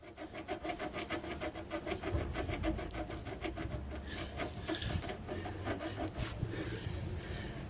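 A car prop shaft's rubber coupling gives off a steady rubbing, rasping scrape with a rapid repeating pulse, close and continuous, with no talk over it.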